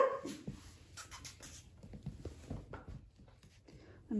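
Big dogs bark at something outside, sounding muffled and at a distance from indoors, with light scuffling and small-dog whimpers close by.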